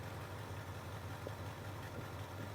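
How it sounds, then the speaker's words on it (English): A 1979 Ford F150 engine with a cheap Chinese carburetor idles in a steady, low, even rumble, faint but constant, with no voices. "There she is, idling."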